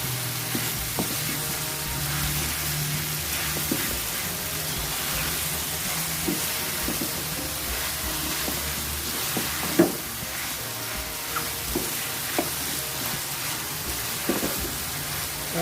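Ridge gourd frying with spices in a pan, a steady soft sizzle with scattered crackles and occasional stirring scrapes and clinks, moderately quiet and continuous with no talk.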